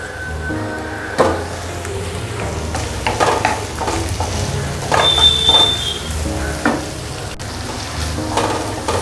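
Anchovy mixture cooks in a pan over a medium flame, giving a steady close sizzle with scattered stirring scrapes and a few louder clatters, with no talking.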